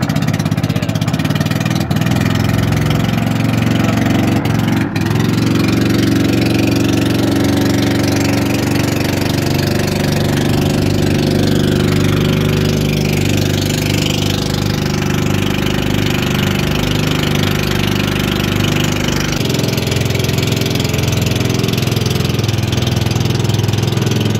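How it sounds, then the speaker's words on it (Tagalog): A fishing boat's motor idles steadily and close by for the whole stretch, a continuous low, throbbing drone at a constant level, with one sharp knock near the start and no talk over it. "So, paantarin natin yung ating makina."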